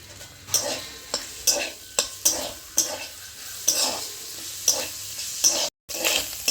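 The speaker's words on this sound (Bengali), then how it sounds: "সরষের তেল দিয়ে আমি শামুকটি ভালো করে ভেজে নেব।" Snails fry in mustard oil in a hot pan, a steady sizzle punctuated by regular scraping strokes of a spatula stirring, close and alone with no talking.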